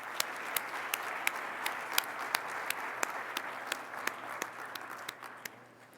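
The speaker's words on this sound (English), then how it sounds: "let's congratulate them all with applause" An audience at the SC21 awards ceremony applauds the winners, a moderate wash of clapping with a few distinct sharp claps standing out, gradually thinning toward the end.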